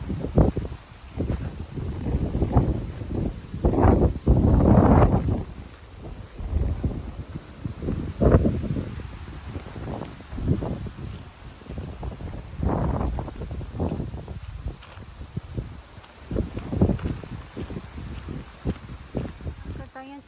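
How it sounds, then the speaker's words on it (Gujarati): Strong gusts of wind buffet the microphone outdoors during a walk, in loud, uneven bursts of low rumbling, with a person talking underneath. "આજે બહુ જ પવન છે ખબર નહીં તમને મારો અવાજ આવતો હોય કે ના આવે"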